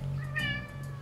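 A cat gives one short, clear meow close by in a quiet indoor room.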